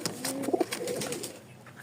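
Rajshahi Tiger pigeons coo at close range in a couple of soft, rounded calls at a home loft, with faint background noise and no talking.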